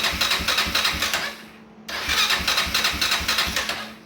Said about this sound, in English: You hear the engine cranking every time.